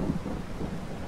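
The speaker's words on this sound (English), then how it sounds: "We'll let the rain on that for a little while." Rain and a low rumble of thunder from the Farming Simulator 22 game world, a steady broadband wash of downpour with a deep roll underneath, continuous and even throughout the short stretch.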